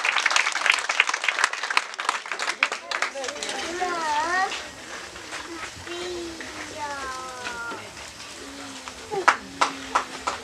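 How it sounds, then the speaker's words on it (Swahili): A church congregation claps together in a group round of applause, a burst of clapping near the start that thins out, with children's voices and chatter mixed in. "Tupige makofi ya kikundi kutusaidia."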